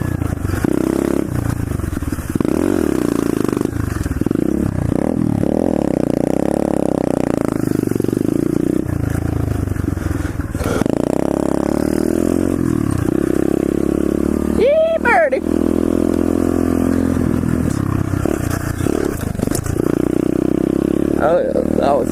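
A pit bike rides over rough trail ground ahead of a jump, its small engine droning and revving steadily beneath constant nearby chatter from riders, with occasional clattering.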